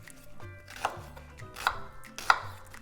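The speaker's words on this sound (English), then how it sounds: "cut the onion into like little quarter pieces" A knife chopping an onion into quarters on a board, three distinct close cuts spaced roughly evenly, each a crisp thud with a brief crunch, with quiet kitchen rumble between.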